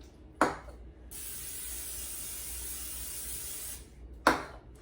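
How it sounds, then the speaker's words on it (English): Two sharp clicks bracket a sustained hissing spray of cooking spray onto a baking pan, lasting about three seconds, close and fairly loud. "Okay, so I'm gonna spray my pan."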